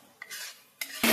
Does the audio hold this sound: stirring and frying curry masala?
yes